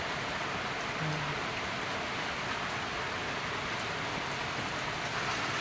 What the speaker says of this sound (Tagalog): Lumalakas po yung ulan.